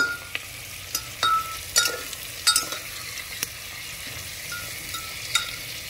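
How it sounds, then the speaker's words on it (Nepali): Sukuti, buffalo dried meat, frying in a pan while being stirred, a steady soft sizzle broken by several sharp scraping strokes of a utensil, close and alone. "चलाउन जाँदैछु।"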